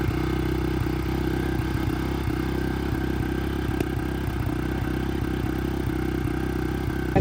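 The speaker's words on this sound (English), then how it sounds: "Everyone's getting their bikes warmed up." Several dirt bikes warm up their engines on a cold morning before a Grand River hare scramble. A steady, buzzing idle drone runs throughout with faint clattery ticks, no voices.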